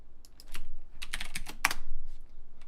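Computer keyboard keys typed in a short burst of several clicks, close and fairly quiet, entering a stock ticker.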